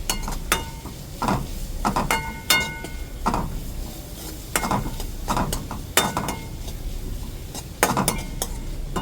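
Onions with turmeric powder being stirred in a metal pan on a roadside lorry-stop cooking setup: sharp, close spatula scrapes and clanks against the pan, repeating irregularly every second or so, over a faint low sizzle.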